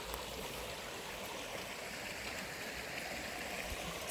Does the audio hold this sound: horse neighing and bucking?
no